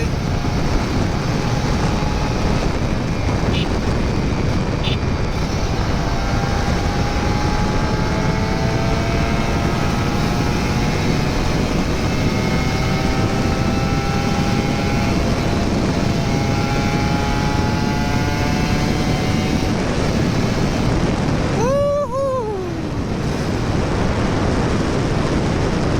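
Kawasaki Ninja RR 150 two-stroke motorcycle on a rainy morning ride, its engine droning steadily with rising and falling rev tones over constant wind and road rush, with a sharper pitch sweep near the end.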